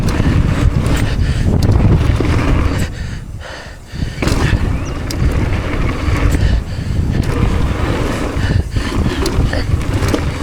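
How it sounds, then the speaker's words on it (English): Strong wind blowing at a dirt bike track, buffeting the microphone in a steady, loud roaring rush that dips briefly before surging back. "Feel fucking wind still."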